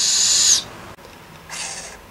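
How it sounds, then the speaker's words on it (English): A young captive-raised screech owl gives two harsh, hissing screech calls, the first longer and louder, the second fainter after a short pause, close by. "And I have one lone little screech owl."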